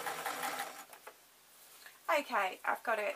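A sewing machine stitching an off-the-shoulder dress: a person speaks briefly, then the machine whirs in short, close bursts separated by brief pauses.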